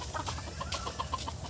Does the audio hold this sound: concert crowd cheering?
no